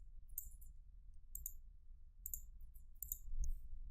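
Computer mouse clicks during SolidWorks CAD drafting, four or five crisp, faint clicks spaced about a second apart over a low steady hum, with no talking.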